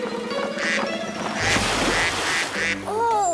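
Cartoon duck quacks loudly over busy carnival background noise and music, a few repeated honking calls ending in a rising squawk.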